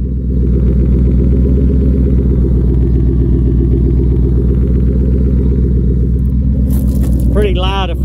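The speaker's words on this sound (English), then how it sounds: "Got the Roush exhaust." A 2014 Ford Mustang GT Premium with a Roush exhaust rumbles close and loud in a steady low drone, while a voice speaks near the end.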